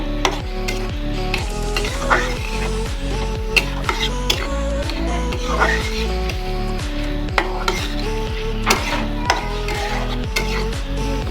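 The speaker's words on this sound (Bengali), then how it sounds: "পেঁয়াজ কুচিটা আমি বাদামি কালার করে ভেজে নেব" Chopped onion fries until brown while being stirred in a metal pan, a steady sizzle under a rhythmic series of clear scraping clinks from the utensil, repeating about twice a second, close and loud.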